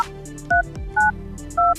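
Three short electronic dial pad beeps sound in an even sequence as digits are keyed into a desktop phone application, each tone clean and distinct over faint background hiss.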